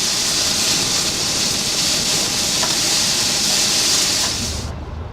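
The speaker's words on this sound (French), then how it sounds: "L'engin moteur thermique est remplacé pour, tenez-vous bien, une machine à vapeur." Steam locomotive on a Chinese coal-hauling line, a loud steady roar of hissing steam and rumbling rail noise held for several seconds before cutting off sharply.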